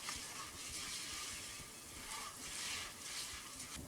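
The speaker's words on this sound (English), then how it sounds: "I'm gonna let this saute for about 3 to 5 minutes or so until the rice is golden brown" Rice sautéing in a pan, a steady faint sizzle with soft crackling that goes on the whole time, and no voices.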